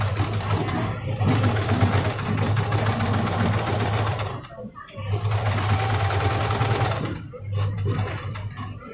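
Close, loud sewing machine runs stitch a bag in two long bursts and a shorter one, each with a steady humming rattle, separated by brief pauses.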